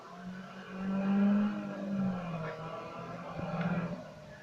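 Car engine in the Need for Speed racing video game, a steady droning hum that swells and eases over several seconds, moderately loud and continuous, with a brief rise in revs near the end.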